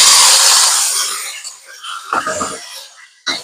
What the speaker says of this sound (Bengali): এবারে চিকেন গুলো কষে নেব, ভেজে নেব।